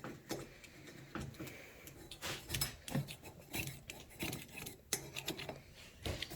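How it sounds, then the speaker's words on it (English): Gasket material being scraped off a Honda CRF230F motorcycle cylinder head, a steady run of short rasping strokes at close range, with no talk over it. "Just scraping some gaskets."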